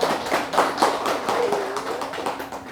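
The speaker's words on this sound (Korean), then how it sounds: "이 박수는 뭐게요?" A group of people clapping at a Buddhist temple service marking Buddha's Birthday, with irregular, moderately loud claps spread across the whole stretch and a faint voice under the clapping.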